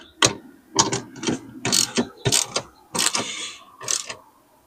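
A ratchet tightening bolts clicks in loud, close bursts of rapid pawl clicks, eight or so strokes with brief pauses between them.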